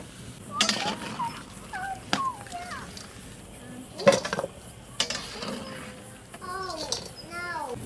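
Blanched chicken leg pieces are lifted out of a pot in a home kitchen, giving scattered clanks and clinks of utensils against cookware, with children's voices chattering and calling out in the background.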